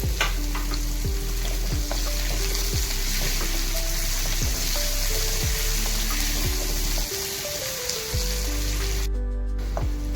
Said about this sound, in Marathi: लसूण टाकत आहोत. लसूण, मिरची आणि परतून घेत आहोत.